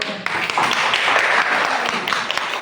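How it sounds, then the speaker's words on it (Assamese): Applause from an audience at an Independence Day (15 August) self-help group members' handmade goods exhibition, a dense steady patter of many hands clapping at close range for a few seconds, fairly loud and continuous. "একবাৰ জোৰদাৰ তালি"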